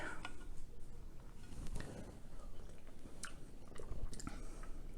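Someone eating homemade tomato soup topped with sour cream or croutons, soft close chewing and a few light spoon or mouth clicks over a low background hum.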